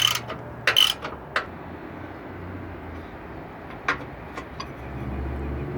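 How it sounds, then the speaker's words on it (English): Ratcheting socket working loose a sway bar bracket nut on a Range Rover Sport, giving a few quick clicking bursts early on and scattered single ratchet clicks later, close by over a low steady background hum. "you can just use the ratcheting socket for the other nut"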